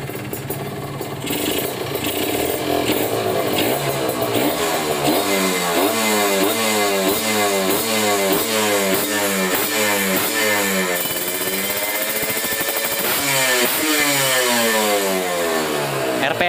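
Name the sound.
Kawasaki Ninja RR motorcycle engine revving with Mikuni carburetor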